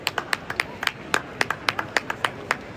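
A church congregation claps in praise of Jesus Christ: sharp, close handclaps in a quick, mostly steady rhythm, about a dozen distinct beats, with no talking over them.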